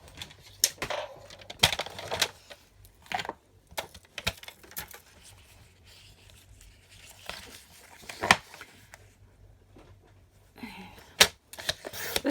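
Paper card layer being cut for a handmade stamped card, probably with a trimmer, heard as scattered short crisp slicing and clicking sounds with quiet gaps between them, close and fairly soft, with no one talking.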